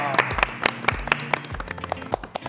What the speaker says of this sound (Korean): 다시 한번 박수 한번 보낼까요?